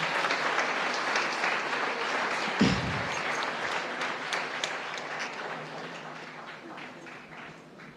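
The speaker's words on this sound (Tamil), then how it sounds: "உங்களுடைய கைத்தட்டலோடு அன்போடு அழைக்கிறோம்" An audience at a student debate at JPR College in Chennai claps for a first-year electronics and communication engineering student speaker, a dense, sustained round of applause with one dull thump early on, slowly thinning toward the end.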